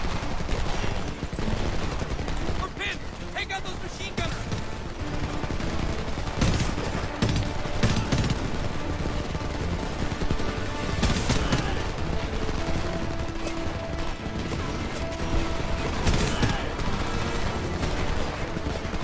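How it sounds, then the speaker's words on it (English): Gunfire from the video game Homefront rattles almost nonstop, with dense bursts of automatic fire and scattered single shots layered over steady game noise, loud and close throughout. "They're shooting behind there."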